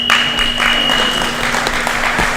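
A crowd at a grappling match claps and cheers, dense applause filling the whole short stretch at an even level, with a steady electronic tone running underneath.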